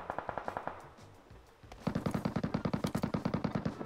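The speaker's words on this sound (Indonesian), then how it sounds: "Ada yang nembakin tuh dari tempat berbeda tuh." Automatic gunfire in PUBG Mobile, one short burst followed after a pause by a longer, louder run of rapid, evenly spaced shots, close and sharp, with no voices over it.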